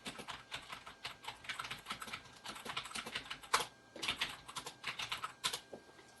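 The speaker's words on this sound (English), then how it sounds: "I'll just type this down really fast" Rapid, close keystrokes tap on a computer keyboard in quick irregular bursts with a few brief pauses, crisp and soft in a quiet room.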